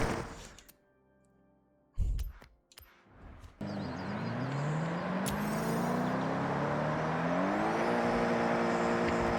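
A Toyota GR GT in Forza Horizon 6 starts with thunks and clicks, then its engine revs up and drives on in a loud, rising, sustained roar with gear-shift steps, heard close and without talk.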